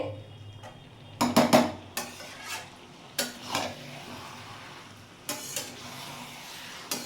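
Watermelon rind and fish curry being stirred in a pan: short bursts of scraping and clattering from a utensil against metal, three or four close clusters over a few seconds, set against a quiet background.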